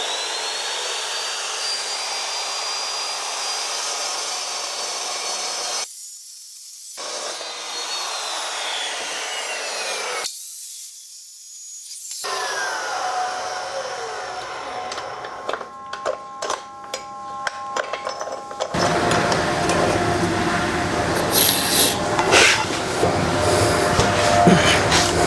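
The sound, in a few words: diamond chop saw cutting steel roll bar tubes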